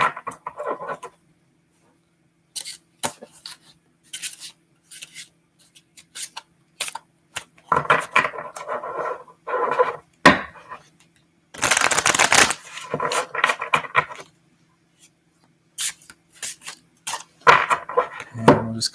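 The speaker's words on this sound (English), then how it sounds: "So we'll just shuffle the cards." Tarot cards are shuffled by hand in a quiet room, giving intermittent riffling and snapping bursts separated by brief silences, close and moderately loud.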